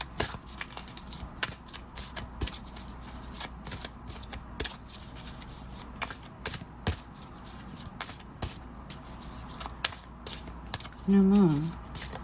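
A deck of tarot cards is shuffled near and at moderate level in quick repeated riffling bursts, each a short crisp rustle, continuing steadily, with a brief voice near the end.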